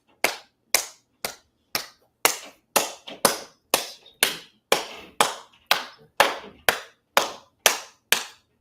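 A single person claps hands in a steady series of about twenty sharp, close claps, evenly spaced with short gaps of quiet between them.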